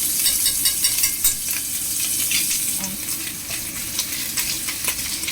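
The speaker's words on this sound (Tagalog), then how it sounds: "So, stir fry lang po natin." Noodles with vegetables, egg and garlic stir-fry in a pan, a steady bright sizzle with scraping and clatter of a utensil stirring throughout, close and continuous, with no talking.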